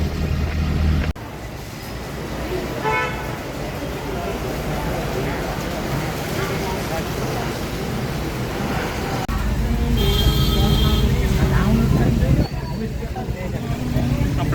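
Steady low rumble of a bus moving through waterlogged Ahmedabad traffic after heavy rain, with a continuous engine and road drone and a louder surge partway through, as if passing other vehicles.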